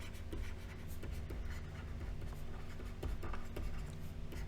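Pen writing out a path difference calculation for a wave optics problem, continuous soft scratching strokes close up against a steady background hum, with no talking.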